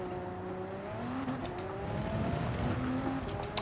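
A prototype race car in the Gran Turismo 7 racing game pulls away from a standing start in first gear, its engine tone climbing steadily while other cars whir faintly in the background.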